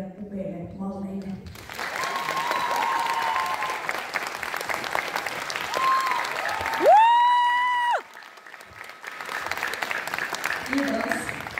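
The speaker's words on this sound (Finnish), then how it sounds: "Saanko vielä kerran isot aplodit kaikille meidän upeille malleille." Applause for the models at an EGL fashion event: a brief voice, then a crowd clapping steadily for several seconds. Bright electronic tones rise and fall partway through, and the clapping fades before resuming near the end.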